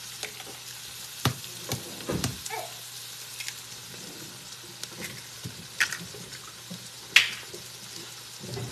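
An egg fries quietly in a pan, giving a soft, steady sizzle broken by scattered sharp pops and crackles, with no talking.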